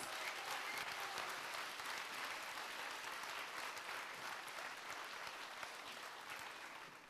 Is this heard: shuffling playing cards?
no